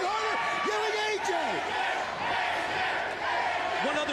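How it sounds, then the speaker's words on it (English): Wrestling crowd at a TNA pay-per-view X-Division title match between Jeff Hardy and AJ Styles, loud and continuous, with rising chant-like yells and cheers over a dense, roaring arena wash. "Half this crowd screaming AJ."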